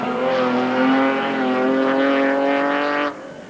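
A 1959 Aston Martin DBR1 sports racing car at Goodwood, its engine holding a steady loud, harmonically rich drone close by for about three seconds before cutting off abruptly.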